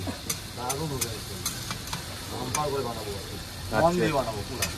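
Meat frying in a pan while being stirred, with a steady sizzle and occasional sharp spatula scrapes, close by and partly under people talking.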